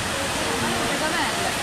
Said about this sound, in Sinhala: හරි ඔන්න දැන් අපි සියපු ඇල්ල ගාවට ඇවිල්ලා ඉන්නේ.